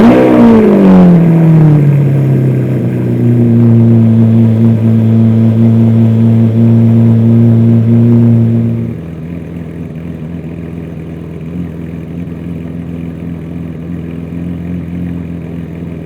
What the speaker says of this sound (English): there's a difference between the cold start of the Aventor SV and the Huracan Performante.